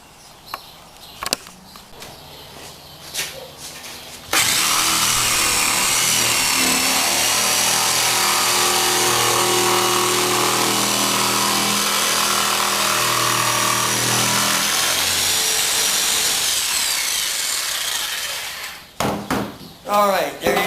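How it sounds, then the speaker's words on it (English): Jigsaw cutting a circle in wood, a loud sustained buzzing drone lasting over ten seconds, preceded and followed by clatter and handling noises, with speech at the start. "Basically, just take a jigsaw and we're going to cut around"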